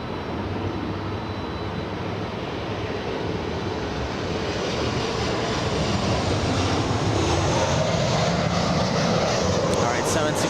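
A WestJet airliner passes at Los Angeles International Airport on its landing approach. A broad, steady engine roar slowly builds and swells toward the end, loud and enveloping, with a faint voice under it.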